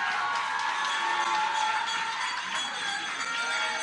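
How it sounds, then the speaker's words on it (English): A rally audience applauds and cheers for their MP in a steady, dense wash of clapping that holds through the whole stretch without a break. "let us give a lusty round of applause for our own MP"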